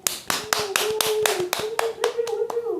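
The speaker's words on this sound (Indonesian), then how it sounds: "Kita beri tepuk tangan buat brand lokal salah satu lagi teman kita." About ten separate hand claps from a small group, spaced in a fairly even rhythm and close to the mic, applauding a local brand, Brutality Pressure, on an Indonesian guest talk show. A faint steady tone hums underneath.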